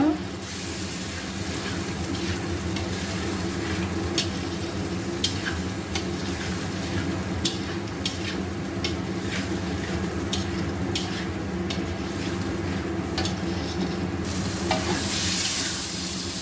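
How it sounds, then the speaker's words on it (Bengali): Spice paste of turmeric, salt and a little water sizzles steadily in a hot pan while a spoon stirs and scrapes it, giving a continuous frying hiss punctuated by sharp clicks of the spoon against the pan, with no talking. "মশলাটা ভালো করে ভাজা ভাজা করে নেব।"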